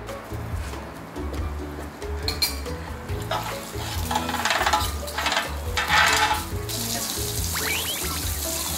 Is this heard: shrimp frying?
yes